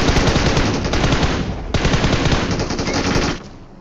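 Automatic rifle fire in PUBG Mobile, dense rapid bursts that are loud and close, with a brief pause in the middle before firing resumes and then cuts off.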